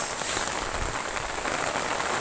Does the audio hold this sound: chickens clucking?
no